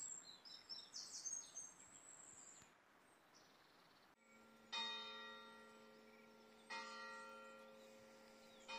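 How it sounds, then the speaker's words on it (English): Church bells ring out at night near a quiet snowy spot, giving two clear, resonant strikes that each hang and fade slowly, after some faint bird calls and a brief hiss at the start. "the church bells ring all night"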